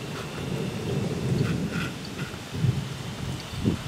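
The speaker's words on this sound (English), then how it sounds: "Ooh, it's starting to rain." Rain pattering steadily with low rumbling thunder underneath, an outdoor storm sound with no voices.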